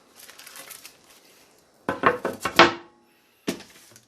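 Hard plastic or wooden chopping board clatters and knocks against a metal RUVATI sink, a few sharp bumps and scrapes after a quieter rustle.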